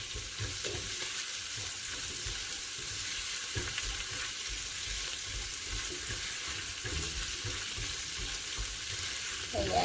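Garlic and onion sautéing in a pan for Filipino pork dinuguan, a steady close sizzle with occasional stirring scrapes, continuous and fairly quiet throughout.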